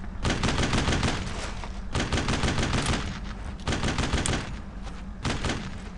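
Rapid bursts of automatic and rifle gunfire from the World War II shooter Brothers in Arms: Road to Hill 30, loud, dense volleys in four clusters separated by short pauses.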